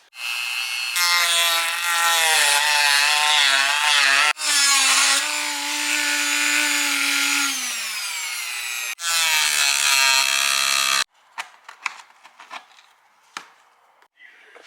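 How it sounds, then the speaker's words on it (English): A Dremel rotary tool whines loudly as it cuts in three long sustained bursts with shifting pitch, then stops, leaving scattered scraping and handling knocks, close up with no talk. "I'm going to use my Dremel here to make our cuts."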